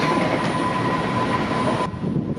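A train rumbles steadily with a broad, loud roar and a sustained tonal hum, then drops slightly near the end, with no voices present.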